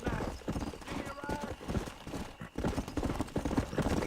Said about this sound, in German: So, dann reiten wir jetzt wieder zurück nach Mexiko, um diesen Santa zu sprechen.